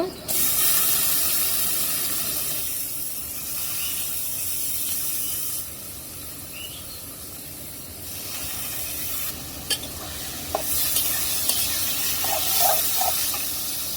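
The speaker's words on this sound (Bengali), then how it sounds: "পেঁয়াজ, কাঁচামরিচ, রসুনটা ভেজে নেবো আগে।" Onion, green chili and garlic fry in a pan with a continuous close sizzle and hiss, broken by stirring scrapes and a few sharp utensil clinks toward the end.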